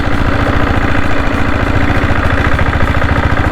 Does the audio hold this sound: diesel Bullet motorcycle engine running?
yes